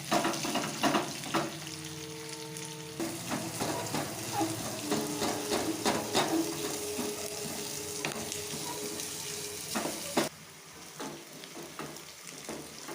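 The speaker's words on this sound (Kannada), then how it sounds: "ಉದ್ದುದ್ದ ಕಟ್ ಮಾಡಿರೋಂತಹ ಈರುಳ್ಳಿಯನ್ನು ಹಾಕ್ಕೊಂಡು ಅದನ್ನು ಚೆನ್ನಾಗಿ ಫ್ರೈ ಮಾಡ್ಕೊಳ್ಳಿ." Sliced onions fry in oil with a continuous close sizzle, broken by scattered clinks and scrapes of stirring, ending with a sharp drop to a quieter bubbling.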